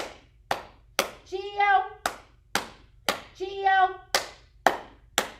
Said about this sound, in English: That means three claps.